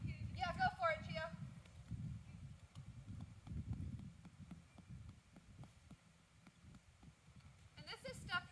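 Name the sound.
horse hooves walking on an archery track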